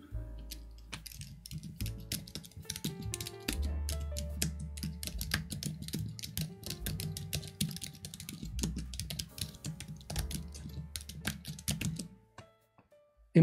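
Someone types steadily on an Apple Magic Keyboard 2 with Japanese JIS layout, a close, fast patter of light clicky keystrokes running for about twelve seconds before stopping.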